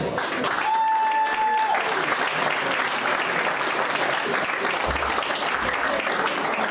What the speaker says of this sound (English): deserves a good round of applause